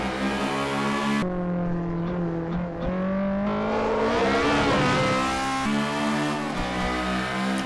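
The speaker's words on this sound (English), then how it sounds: "in this lightweight front wheel drive car and feeling it turn in and feeling the brakes and everything feels fantastic" A lightweight front-wheel-drive Honda Civic Type R of about 260 horsepower runs hard on a race track. The engine drones loud and close, rising and falling with revs, with a clear shift partway through.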